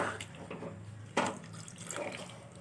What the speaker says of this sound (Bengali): এই গরম জলটাই আমি চিকেনে ব্যবহার করব, ঠান্ডা জল দেবো না।